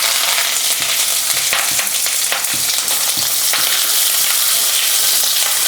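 Onions, green chili and curry leaves fry in a pan at close range, giving a steady loud sizzle broken by scattered crackles and the scrape of stirring, with no voices.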